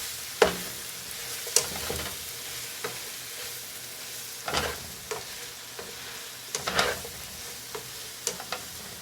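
Sliced mushrooms frying in a pan for keto Salisbury steak, with a faint steady sizzle broken by several sharp clattering stirs and scrapes, spaced irregularly, close by and with no one talking.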